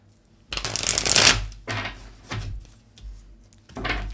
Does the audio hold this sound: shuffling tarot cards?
yes